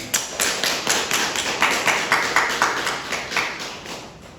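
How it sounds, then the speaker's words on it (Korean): A church congregation claps in a steady, rhythmic unison beat at moderate loudness, sustained for several seconds. "우리 다시 한번 축하의 박수를 보내드리겠습니다"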